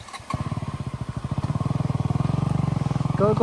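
A motorcycle ridden on a mountain trail from Kathmandu toward Latarambeshwor Mahadev runs close and loud, its engine a steady, rapid pulsing throb after a brief start, holding on throughout.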